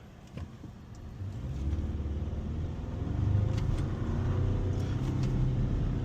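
A Toyota Tacoma pickup driven with its automatic shifter in manual mode; a steady, close engine drone builds in loudness and pitch as revs climb, with no voices.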